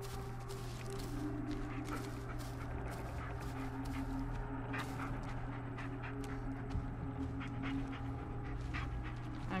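A dog panting in the Blair Witch video game, quick rhythmic breaths repeating close by throughout, over a low steady ambient hum.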